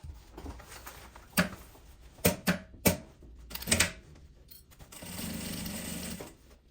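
A sewing machine runs top and bottom seams on a travel bag, with short clattering bursts and sharp ticks, then a longer steady whirring run of stitching near the end.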